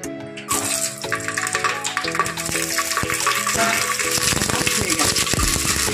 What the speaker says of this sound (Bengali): ক্যাপসিকামগুলো তেলের উপরে ছেড়ে দিচ্ছি।